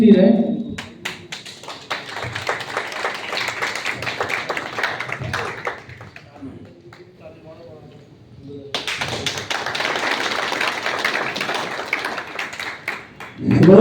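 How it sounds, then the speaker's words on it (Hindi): Audience at an Azad Samaj Party (Kanshiram) political gathering bursts into loud sustained clapping, fading into a quieter stretch before a second strong round of applause, with a voice speaking over the crowd. "ताली में कंजूसी नहीं रहे।"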